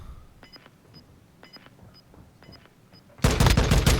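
Call of Duty gunfire in a gunfight match, starting as a series of faint, sharp clicking shots at a distance, then breaking into a loud, dense burst of rapid automatic fire at the end.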